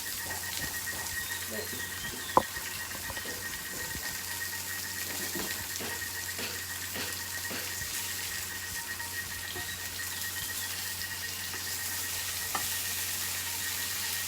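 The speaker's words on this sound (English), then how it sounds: "So I will flip the fish." Fish pan frying in turmeric curry, a steady bright sizzle with scattered crackles and pops throughout, close and continuous, with a couple of sharper clinks and no talking.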